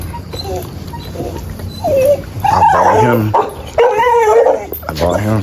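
A brood dog whimpers in high, rising whines, then lets out a few sharp barks and yips, close by. Someone talks over and between the dog's sounds.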